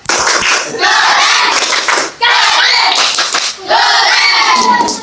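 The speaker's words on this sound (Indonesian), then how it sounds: "Tepuk tangan untuk mereka berempat." Schoolchildren in an Indonesian elementary classroom perform a 'tepuk keren' class clap, loud close bursts of rhythmic clapping mixed with excited children's voices, coming in three energetic waves separated by brief pauses.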